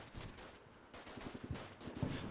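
Distant 23mm cannon fire in Combat Mission Shock Force 2, faint rapid thudding bursts in short strings, quiet and low against a soft background.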